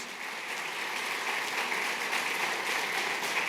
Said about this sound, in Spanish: Dele fuerte ese aplauso a Jesús